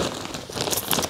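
Protective plastic film crinkles on a Bell Moto-9S Flex motocross helmet, a close, dense rustling and crackling that carries on briefly without pause.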